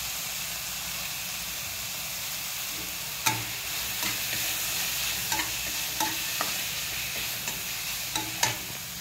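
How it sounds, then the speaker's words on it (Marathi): Rice tossed in a hot pan with tomato, coriander and peas gives a steady sizzle, with occasional sharp scrapes and clicks from the spatula stirring it. "तांदूळ परतून घेऊया."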